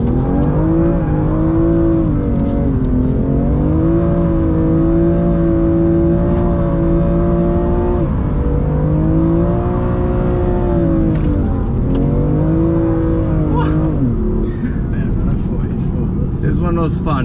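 A BMW M2 Competition engine revs loudly and continuously through hairpin turns, its pitch rising and falling with repeated downshifts, holding close and steady with no pauses.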